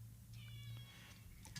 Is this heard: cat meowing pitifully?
yes